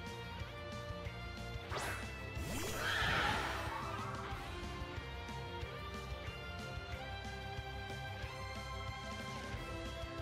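A horse Pokémon whinnies in Pokémon Scarlet and Violet, one loud rising neigh over steady game music, with crashing battle hits nearby.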